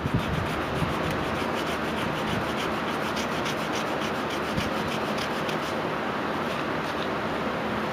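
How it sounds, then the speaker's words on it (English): Light 400-grit sandpaper rubbed over a coated carving knife handle, a steady close scratchy rasp running without pause for the whole stretch, no voices. "you take like real light sandpaper, like 400 grit or something like that, in other words, and you hit it"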